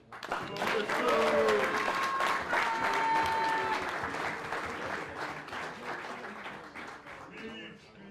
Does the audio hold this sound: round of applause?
yes